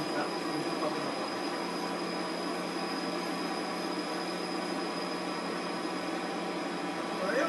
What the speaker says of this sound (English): Just along the train tracks.